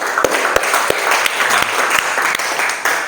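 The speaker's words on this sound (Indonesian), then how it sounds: "Oke, beri tepuk tangan untuk kawan kita." Dense, steady applause from an audience in a classroom setting, a close wash of many hands clapping that fills the full three seconds with a few sharper claps standing out.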